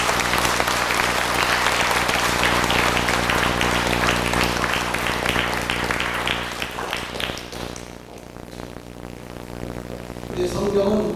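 Warm applause from a church evangelism meeting audience welcoming a pastor, dense clapping that fades after about eight seconds, then a brief burst returns near the end.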